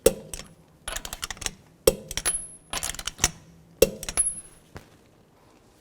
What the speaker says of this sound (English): Now I'm going to torque these lug nuts to 76 foot-pounds in a star pattern to tighten the wheel down evenly.